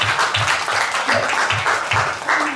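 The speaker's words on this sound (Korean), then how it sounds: "여러분 하나님께 박수 한번 읽어드리고 싶지 않으세요?" Church congregation clapping during a Sunday sermon: brisk, rhythmic unison claps in a steady beat, fairly loud and close, with a faint voice underneath.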